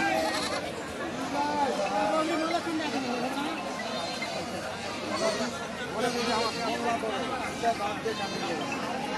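Several goats bleat repeatedly over a busy crowd of chattering voices at Mataji goat market in Naogaon, Bangladesh, a noisy outdoor livestock market with calls rising and falling throughout.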